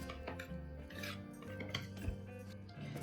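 A utensil stirs salt into cake batter in a bowl, with steady scraping and clinking against the bowl, close and fairly quiet, and no talking.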